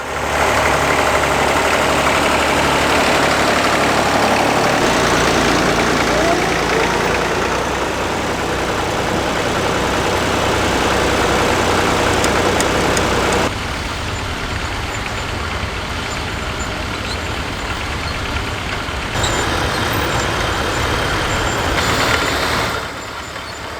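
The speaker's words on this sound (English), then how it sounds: "It's great to see this little Bristol crawler competing in the trail plough class." A small Bristol crawler tractor runs steadily at a ploughing match in the trailed plough class, its engine throbbing loudly and continuously with a slight drop in level partway through.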